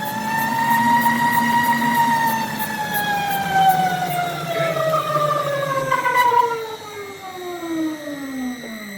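A shock dyno runs a test sweep on an Ohlins TTX GP shock, a rising mechanical whine that holds steady and then slowly drops in pitch as the machine winds down. It is close and fairly loud.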